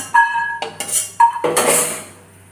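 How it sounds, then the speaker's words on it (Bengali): A metal spatula stirs and lifts fried bori, small lentil dumplings, in a pan; several close, bright clinks and scrapes come in short bursts with no voices. "এই যে বড়িগুলো একটু নেড়ে চেড়ে বড়িগুলো আমি তুলে নিলাম"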